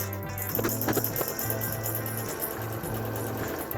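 A sewing machine stitches a fabric face mask in bursts of rapid, steady mechanical clatter close up, pausing briefly between runs.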